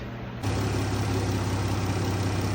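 A Chrysler Pentastar engine, freshly fitted with new cam lifters and rockers, idles steadily with a smooth, even hum and no audible ticking, close and constant throughout.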